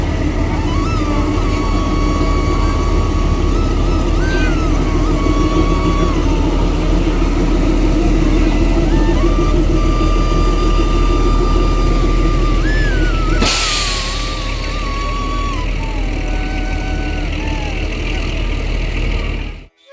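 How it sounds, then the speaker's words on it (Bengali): The Shivalik Express pulls out of a station with a loud, steady engine drone and a wavering whine that rises and dips, then a sudden burst of noise before the sound tapers away. "এই যে এখন আমাদের চোখের সামনে দিয়ে শিবালিক এক্সপ্রেস তার গন্তব্যের জন্য বেরিয়ে পড়েছে।"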